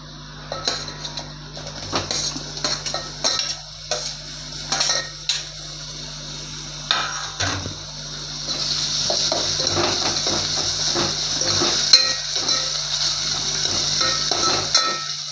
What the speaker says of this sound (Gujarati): હવે ટમેટા નાખી દઈશું.